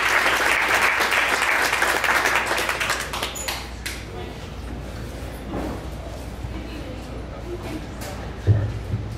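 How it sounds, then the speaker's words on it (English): Audience applause at a 1 Million Cups Dallas event, loud and dense at first, then thinning to scattered claps over the last several seconds with a faint voice near the end. "Let's give her one more round of applause."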